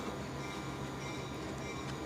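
A train rolls past near an outdoor press conference, a steady low rumble with a faint rhythmic clatter holding level and close throughout, with no talk over it.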